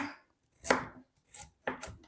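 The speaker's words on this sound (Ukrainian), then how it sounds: "Морквочку ось десь півтора сантиметра нарізаю" A knife chops through carrots on a board, four crisp separate cuts with short pauses between them, close up and with no talking.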